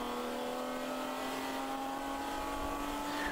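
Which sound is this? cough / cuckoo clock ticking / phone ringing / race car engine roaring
race car engine roaring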